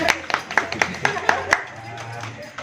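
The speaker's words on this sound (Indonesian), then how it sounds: "Tepuk tangan untuk Bu Eka." A small audience at a hydroponics training session gives a brief burst of scattered claps for a participant, several sharp hand claps that die away after about a second and a half.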